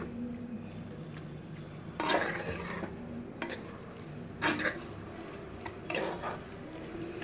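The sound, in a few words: mutton kheema sizzling in a pan after adding curry leaves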